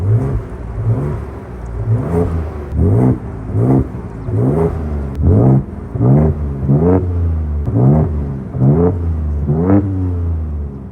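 A Ford Ranger Raptor engine is revved under 3,000 rpm, nine or ten short, loud, close revs rising and falling in a steady rhythm, with no talking.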